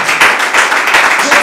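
A church congregation applauding together, a brief burst of dense, steady clapping that stays loud and close throughout.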